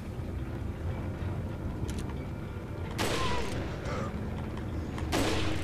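Gunshots in Resident Evil 4 ring out as two sharp, loud blasts a couple of seconds apart over a low background rumble, with a fainter crack just before.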